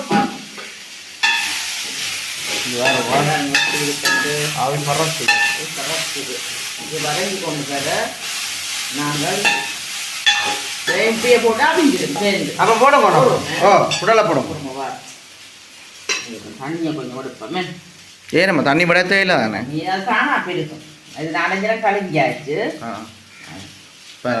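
Food sautéing in a pan in a Jaffna home kitchen, a bright sizzle with stirring scrapes running under near, continuous conversation.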